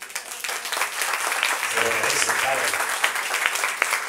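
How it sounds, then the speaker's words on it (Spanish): A church congregation applauds at a liberation workshop, steady clapping filling the room for several seconds while a voice speaks briefly over it. "Un aplauso a Dios por eso."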